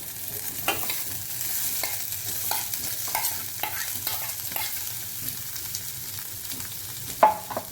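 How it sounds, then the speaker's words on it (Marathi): Potatoes stirred and fried in hot oil in a pan, with a continuous sizzle under repeated scraping strokes of a spoon, close up and no talking. "बटाटे तेलामध्ये चांगले असे परतून घ्यायचे."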